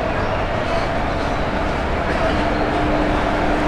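Steady, loud rumble and rush of the Teesta Torsa Express pulling out of Sealdah station, with constant broadband noise heard from inside the compartment.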